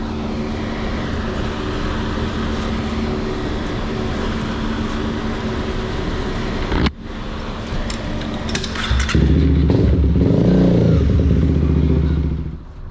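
Motorcycle engine running during a California DMV motorcycle skills test, a steady close drone that breaks off briefly, then returns and swells louder as the bike revs and pulls away.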